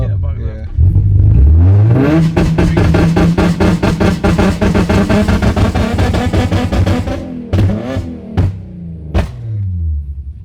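An E85-tuned Nissan 350Z HR with a VQ engine climbing hard under full throttle, rising into a loud, pulsing rev that holds and then drops away, with pops and a few sharp cracks as it falls off.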